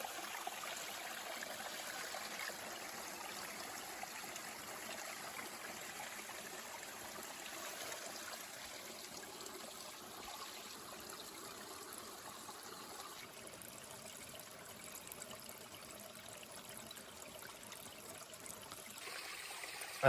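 A mountain stream trickles steadily along the Appalachian Trail while descending Moosilauke, a continuous soft wash of running water close by, with no voices and no breaks.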